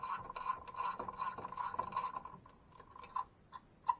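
Ratchet backing out a bolt on a Can-Am KRX 1000 aluminum clutch, a quiet, rapid clicking that runs steadily for two seconds, then thins to a few isolated clicks.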